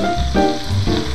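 Salmon sizzles and crackles in a hot pan, a brief burst of frying with soft stirring noises close up.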